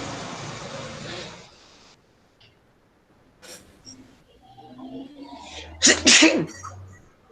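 A single loud sneeze bursts out near the end, after a stretch of room noise and faint movement sounds.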